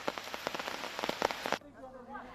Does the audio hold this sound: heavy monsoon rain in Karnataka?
yes